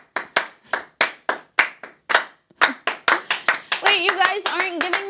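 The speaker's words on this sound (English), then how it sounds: "I don't think I've earned this clapping" Scattered hand claps from a small audience after a close-up magic trick, starting as separate sharp claps and building into quicker, denser clapping, with a voice speaking briefly over the end.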